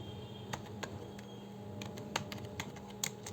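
Quiet, close key clicks come in a loose, uneven rhythm as someone types words into a spreadsheet on a computer keyboard, with no voices.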